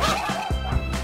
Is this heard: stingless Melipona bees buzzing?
no